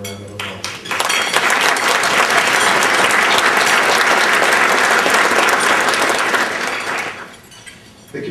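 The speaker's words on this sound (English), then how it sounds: "If we could give them a round of applause" Loud, dense applause from a crowd at a 2008 disability employment recognition event swells in, holds steady for several seconds, then fades away near the end.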